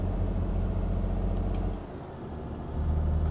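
Truck in Euro Truck Simulator, driven in autumn scenery, making a rough gear shift: a steady low engine drone drops away for a moment around the shift, then returns at full strength.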